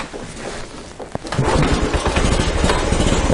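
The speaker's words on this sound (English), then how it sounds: "I'll just get the bike started." A postie motorcycle's engine catches after a quieter start, then runs steadily with a rough, pulsing mid-range rumble close by for the remaining seconds.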